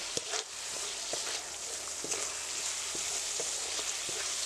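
Spice paste and potato pieces fry for a Bengali fish curry in a pan, a constant loud sizzle broken by the scrape and tap of stirring.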